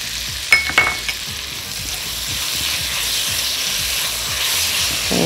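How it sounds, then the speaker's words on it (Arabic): Onion with tomato paste and sugar stirred in a hot pan: a few sharp spoon clacks at first, then a steady, even frying sizzle that holds to the end. "انا اديت تقليبه للبصل مع معلقه الصلصه ومعلقه السكر"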